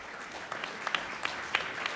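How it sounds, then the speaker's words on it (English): An audience at a housing discussion event applauds itself, a soft, thin round of scattered claps from a moderately sized room, with a few distinct nearer claps punctuating the steady patter. "Give yourselves a round of applause."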